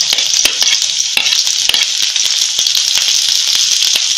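Green chillies sizzle loudly in hot oil, a close, continuous bright crackle with sharp spitting pops scattered throughout as they fry for a fenugreek and wet coconut vegetable dish.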